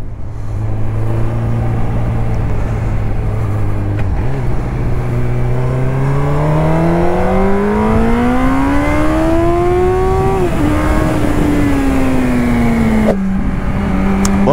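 Honda CB1000R neo-retro motorcycle engine revving up loud and close, pitch climbing steadily through the gears with a brief drop at each shift, then settling into a steady drone.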